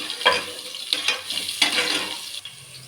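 Curry leaves, cumin seeds and ginger-garlic paste crackle and sizzle in hot oil, with steady frying noise broken by a few sharper bursts and scraping stirs close by.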